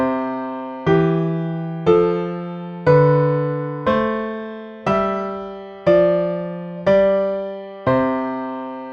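A first species counterpoint exercise played back as two voices moving together in whole notes, nine evenly spaced sustained dyads with sharp attacks and smooth decays, clear and alone.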